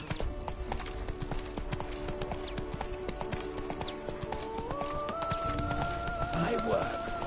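Hooves from the horse Roach clip-clop in a steady galloping rhythm in The Witcher 3 video game, layered over game ambience and a rising musical tone, with a voice speaking briefly.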